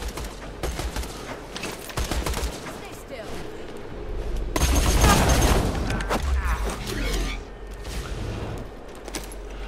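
Gunfire from the video game Borderlands 2 during a co-op session, with bursts of shots and booms rising to a loud, dense peak midway, while players talk over the action throughout.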